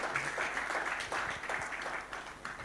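A crowd at a university innovation week event claps to welcome a keynote speaker onto the stage, a sustained, moderately loud wash of applause throughout.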